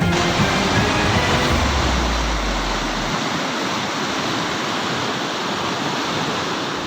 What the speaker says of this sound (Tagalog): Ganito kalakas ang ragasa ng tubig palabas sa Kailanan Creek sa Barangay Dampalit, Malabon kahapon ng umaga